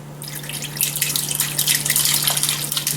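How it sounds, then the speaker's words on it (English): A chilled mixture of cherries, pineapple and bourbon is poured over a wild hog, a steady splashing liquid pour building after a brief quiet start, close and fairly loud. "And we go ahead and just pour it over this hog."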